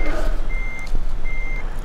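Reversing beeps from a truck parking in Euro Truck Simulator 2: two evenly spaced electronic tones over a low engine idle, close and clear.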